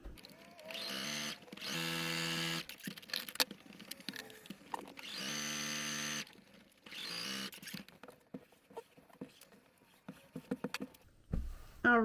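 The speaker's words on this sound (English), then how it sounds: "Okay, now I will sew those." A sewing machine stitching strips of quilted fabric runs in several short bursts of rapid whirring, with clicks and handling noises in the pauses between runs.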